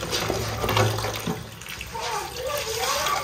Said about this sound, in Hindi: अब ये देखें पहले जो इनको टूटी चला के वाश करेंगे।